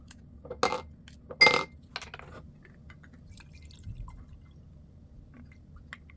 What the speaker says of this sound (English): Add the ice cubes and pour your drink.